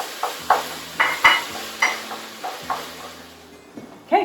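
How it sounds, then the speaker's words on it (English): Ground turkey sautéing and browning in a pan, a wooden spoon scraping and pushing it in about eight rhythmic strokes over a soft sizzle, close and fairly loud, with no talk. "our turkey has been sauteing here. We've been like browning it really good"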